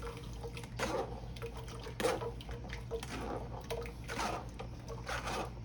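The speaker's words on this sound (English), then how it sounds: "And I can get every drop of this juice out of here" Plum juice for homemade jelly drips and trickles through a strainer, with a continuous wet patter and several louder squishing splashes close by.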